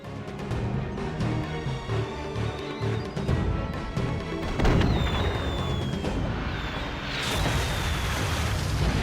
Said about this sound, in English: We've been splattered by their artillery!